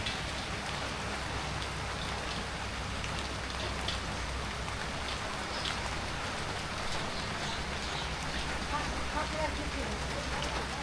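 Steady rain pours down on a surface, a dense, even patter that stays constant throughout with no break.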